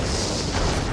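A loud, dense bomb explosion in a combat video game, a single sustained booming blast filling the whole moment, close and heavy with no talk.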